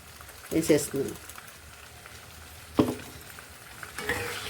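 A spoon stirs eggplant curry with coconut, cumin and chili powder in a pan, giving a few short, soft scraping bursts over a faint sizzle, fairly quiet and close.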